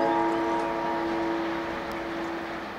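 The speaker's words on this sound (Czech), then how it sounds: "Osobný vlak železničnej spoločnosti Slovensko zo smeru Prešov, Adrienovská Nová Ves." A Slovak passenger train from the Prešov direction arrives at Kysak station, heard as a steady tonal hum and rumble that fades slowly as it approaches, with no talking.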